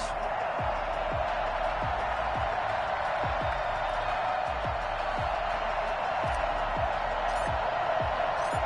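Steady roar of a stadium crowd cheering throughout an EA Sports football video game matchup between the New Orleans Saints and New York Giants, a dense continuous wash with regular low thuds underneath.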